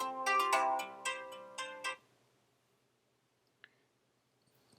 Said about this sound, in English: you can probably hear my cell phone ringing right now.